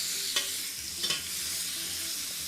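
Stir-fry beef frying in a pan over a campfire, a close, steady sizzle broken by a couple of quick scraping stirs, with no talking.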